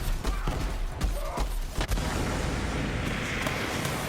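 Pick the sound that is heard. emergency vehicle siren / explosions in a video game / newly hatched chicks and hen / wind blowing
explosions in a video game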